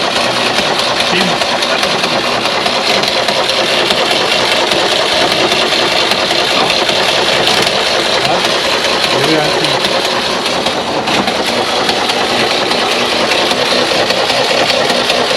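An old car engine left abandoned in a barn for 20 years runs with a rough, steady mechanical chatter, loud and close, while people talk over it.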